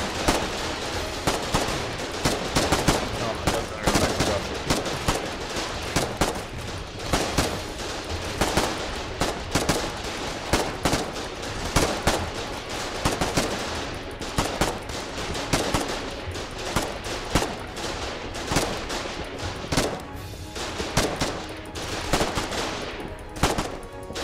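Sustained battle in Foxhole with dense machine-gun bursts and rifle shots firing in rapid, irregular rhythm for the whole stretch, loud and close, with overlapping volleys and almost no talk.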